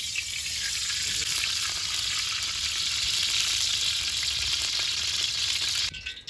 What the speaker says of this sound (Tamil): முந்திரி திராட்சை நெய்யில் வறுத்து எடுத்துக்கலாம்.